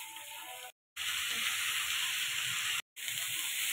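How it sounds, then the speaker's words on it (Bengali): Capsicum, onion, cabbage and carrot fry for veg chow mein, a steady close sizzle that runs loud and even, cut off by two short silent breaks. "আমার ক্যাপসিকাম, পেঁয়াজ, বাঁধাকপি, গাজর এগুলো ফ্রাই করা হয়ে গেছে।"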